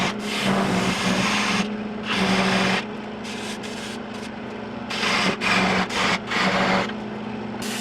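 Wood being sanded on a spinning lathe at a chamfered bottom edge during eccentric spindle turning: bursts of harsh abrasive rasping over a steady motor whir, loud and close, no speech.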